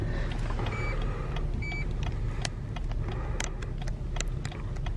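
An electric seat motor whirs steadily inside a 2018 Lexus LS as the seat moves back. Faint clicks and small knocks sound over the low hum.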